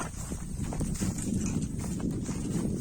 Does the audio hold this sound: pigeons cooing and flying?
no